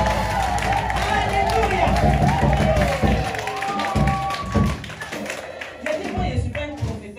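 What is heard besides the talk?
church congregation cheering and clapping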